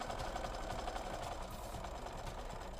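A sewing machine chain-stitches pieces of quilt fabric, running in one steady, continuous mechanical hum that fills the whole stretch without a break.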